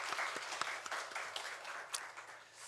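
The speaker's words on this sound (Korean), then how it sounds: "우리 하나님께 영광의 박수 올려드리겠습니다" A congregation claps during a Korean Sunday church service, a brief, fairly quiet patter of hands with a few sharper claps standing out.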